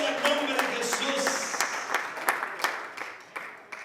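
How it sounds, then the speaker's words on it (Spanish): Congregation applause during a Spanish-language church sermon, scattered claps that thin into a few sharp, distinct hand claps toward the end, with voices talking over them. "Denle fuerte ese aplauso"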